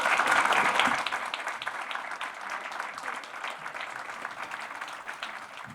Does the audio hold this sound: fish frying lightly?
no